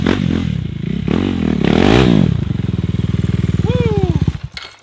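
A motorcycle engine revs up close, rising and falling in a throaty roar, then settles into a rapid, rhythmic idle putter before cutting off.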